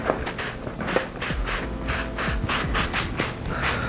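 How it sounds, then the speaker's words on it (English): Nikwax water repellent sprayed onto a Shimoda backpack in a rapid series of short close hissing bursts, with soft rubbing of fabric between the pumps. "I'll shake this up and I'll give it a little spray"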